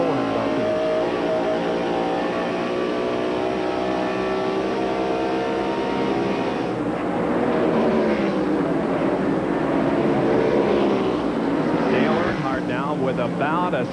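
A NASCAR Winston Cup stock car at Darlington Raceway in 1994 drones at around 8,000 RPM, a steady high engine tone that shifts slightly in pitch, with a commentator's voice running over it.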